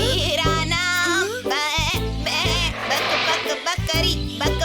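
A cartoon goat bleats loudly in a run of quivering, repeated calls, close and over a steady background music bed.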